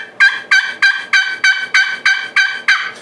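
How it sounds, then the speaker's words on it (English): A pot-style friction turkey call being run produces a steady series of about nine raspy yelps in even rhythm, loud and close, with nothing else audible. "When I'm operating a pot call, a lot of guys you'll see make a circular motion with it."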